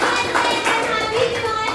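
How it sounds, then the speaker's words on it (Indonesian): Children clap their hands together in a classroom, a dense, steady patter of many small hands lasting under two seconds, fairly close and loud with no talk over it. "Ya kasih tepuk tangan itu."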